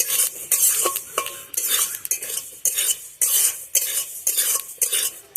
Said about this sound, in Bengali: তো নাড়াচাড়া করতেই হবে, না হলে নিচে লেগে যাবে।